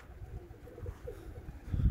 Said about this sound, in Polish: O, gołębie tam idą wszystkie, u sąsiada zbierają.